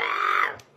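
A caracal gives a single short, harsh growling call that fades out at the end, close and fairly loud, with no talk over it.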